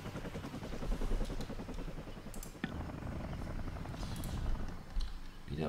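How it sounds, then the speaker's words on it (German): Helicopter in the Vietnam '65 video game idling and hovering, a steady loud rotor chop with a rapid thudding rhythm and engine whine throughout, with a brief clatter midway. "Der untätige Hubschrauber."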